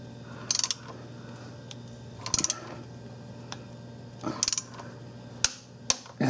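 Metal tool clicks and ratchet ticks in short, faint bursts while a Buick LeSabre starter motor mounting bolt is tightened, over a low steady hum.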